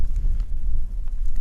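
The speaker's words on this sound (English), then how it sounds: "There is a whole lot of snow, and it's really windy." Strong wind gusting through a heavy snow storm, a steady low roar with rising and falling gusts buffeting the microphone, loud and continuous with no voices.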